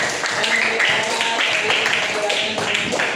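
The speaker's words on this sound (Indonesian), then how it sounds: "kita tepuk tangan untuk semua kelompok" Classroom applause for six student groups after their presentations, a few seconds of scattered clapping with light chatter underneath.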